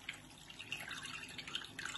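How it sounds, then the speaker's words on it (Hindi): Water drains from a batch of washed mixed lentils, a soft close trickle and light dripping running steadily for a couple of seconds. "मैंने इस तरह से ड्रेन कर लिया, ये पानी सब निकल गया।"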